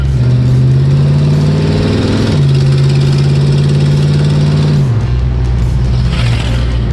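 A 1970s Ford Torino V8 idles steadily on its freshly installed carburetor and new spark plugs, a loud, close, continuous low rumble that dips briefly in pitch around five seconds in, with no talk over it.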